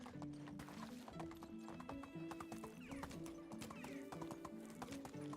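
In the video game Medieval Dynasty, horse hooves clip-clop in a quick, steady rhythm and a neigh is heard, all faint and under a musical background.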